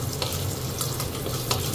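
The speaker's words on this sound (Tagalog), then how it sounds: "mainit na yung ating mantika. Lagyan na natin yung bawang." Garlic fries in hot cooking oil, a steady close sizzle with soft crackles and light stirring, no voices.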